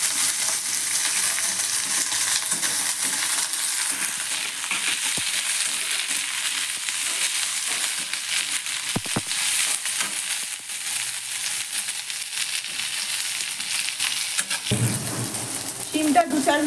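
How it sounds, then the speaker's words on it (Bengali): Crushed garlic and chopped flat beans fry in a pan, a dense continuous sizzle with occasional stirring scrapes, quieting briefly near the end before a louder burst. "রসুনগুলো একটু নাড়িয়ে নিয়েই এর মধ্যে কুচো করে রাখা শিমগুলো দিয়ে দেবো।"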